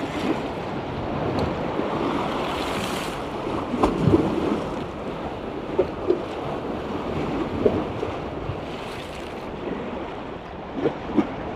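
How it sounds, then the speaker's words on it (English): Small waves lap and splash on the River Thames at Rotherhithe at high tide, a constant washing rush under heavy wind buffeting, with a few sharper slaps against the bank. "And we even have waves."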